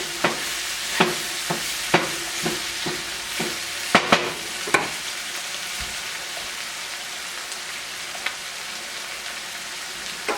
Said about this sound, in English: So now it's time to add our garlic. Just toss that right in. Stir it up until it gets aromatic